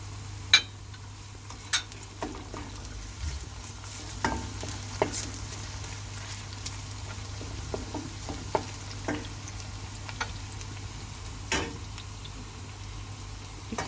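Tomato paste being fried in a pan for a fresh pea dish gives off a low, steady sizzle, broken by sporadic sharp clicks of a spoon stirring against the pan; no talking.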